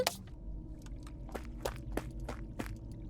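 Footsteps walking in a horror video game, a steady series of soft, close steps roughly every third of a second over a low hum, with no voices.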